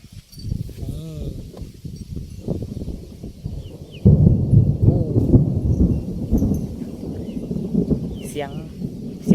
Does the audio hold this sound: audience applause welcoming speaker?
no